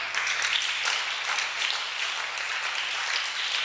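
A congregation applauding inside a church during a Sunday service, steady sustained clapping from many hands filling the space for several seconds, no voices on top.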